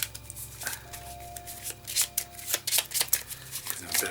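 Treasure cards for the Dungeon Flee board game being shuffled by hand, a run of quick papery riffles and flicks close up, with a few louder snaps toward the end and no talking.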